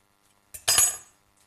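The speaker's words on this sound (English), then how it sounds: "you run your knife all the way round" A knife runs around the stone of an avocado in one brief scraping stroke with a faint metallic edge, close up and otherwise silent.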